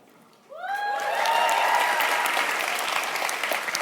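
An audience at a live show bursts into applause, with whoops rising over the clapping, and the clapping stays loud and sustained.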